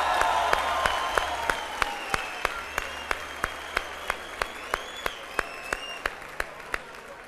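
A studio audience applauds for a singer on a Turkish TV talk show, a steady, moderately distant wash of clapping with a sharp rhythmic tapping over it and faint tones drifting above.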